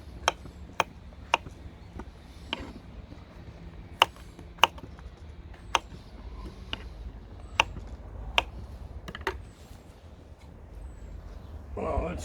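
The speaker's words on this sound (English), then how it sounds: "cut this into little pieces." Sharp, isolated knife taps strike a cutting board at irregular intervals as chicken is chopped into small pieces, each hit crisp and near over a quiet background.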